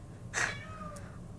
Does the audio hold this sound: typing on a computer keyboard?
no